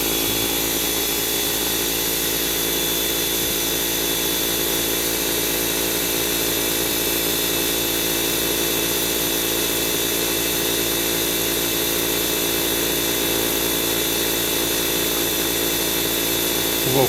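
A slot car motor from a World Championship proxy entry spins at roughly 3400 RPM on a test, holding a steady, even, high whine for the whole stretch with no breaks.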